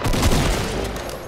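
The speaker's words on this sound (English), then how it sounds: "He's trying to hit us with a shotgun from up there." Gunfire in the Fortnite battle royale game, heard as a dense, loud burst of booming shots lasting just over a second, with no voices.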